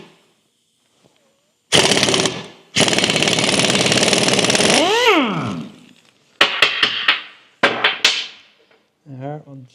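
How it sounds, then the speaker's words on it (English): A Dana 44 rear axle pinion nut on a Scout being loosened with a 1 1/8 inch socket: loud, close rattling bursts of several seconds each, one winding down with a falling whine, followed by shorter sharp hits. "Now I will remove the pinion nut using an 1 1/8" socket."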